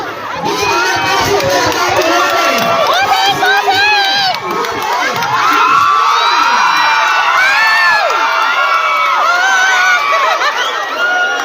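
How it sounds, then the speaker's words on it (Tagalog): A large crowd shouts and cheers loudly and continuously at a street motorcade for the Pasig mayor's District 2 tour through barangays such as Santolan, De La Paz and Manggahan, with whoops and excited voices throughout. "So talagang sigawan ng mga tao, napakaraming tao."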